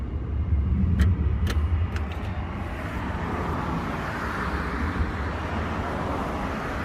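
An old tractor due for scrapping, its engine running with a steady low rumble and a few sharp clicks early on, close and fairly loud, no talking.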